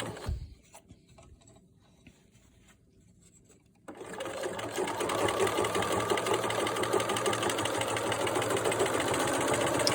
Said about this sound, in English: And then sew on off the end to the end of that part of the tie.